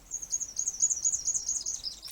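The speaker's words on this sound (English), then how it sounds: "there are two little willy wagtails outside my window" Two willy wagtails chirp just outside a window in a rapid, continuous high twittering, faint and slightly distant, with no voices.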